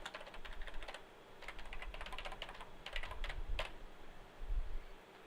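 A web address is typed on a computer keyboard, a steady run of quiet rapid key clicks in bursts over a low background hum.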